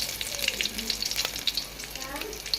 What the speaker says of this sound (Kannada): ಎಣ್ಣೆಗೆ ಬೆಳ್ಳುಳ್ಳಿ ಹಾಕೋತೀನಿ ರೀ ಮೊದಲು